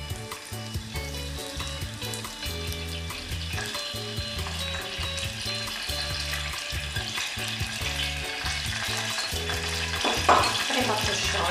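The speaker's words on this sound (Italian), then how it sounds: "Accendo il gas e faccio soffriggere un po' l'aglio." Garlic and anchovies fry in a pan on a gas burner, a steady close sizzle with rhythmic scraping of a utensil stirring through the oil, ending in a brief sharper clatter.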